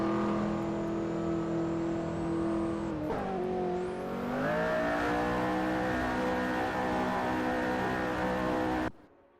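Lamborghini Aventador race cars jostling for position on a track in an AI racing video game, a loud sustained engine whine that dips and then climbs in pitch as the cars accelerate, cutting off abruptly at the end.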